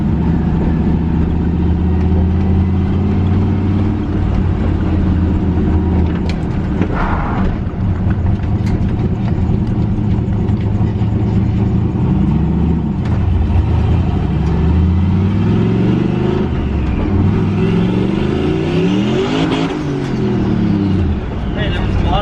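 A turbocharged LS-swapped Pontiac GTO engine idles and blips loudly up close while warming up, its revs rising and falling in repeated sweeps; a person talks over the running engine.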